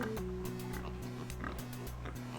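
Pigs oink repeatedly in the DOS adventure game Downunder Dan, a steady run of synthetic grunts over sustained looping tones, with no talking.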